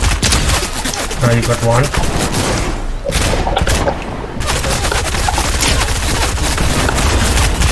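Dense, loud video-game gunfire from enemies rattles almost without pause in rapid automatic bursts and single cracks, with a brief lull midway, while a player talks over it.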